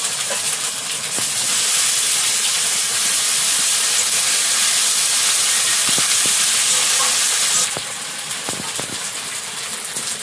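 Ginger-garlic paste sizzles in hot oil in a pan with chopped onion and five-spice seeds, making a loud, steady hiss that softens near the end, with a few scattered clicks and taps.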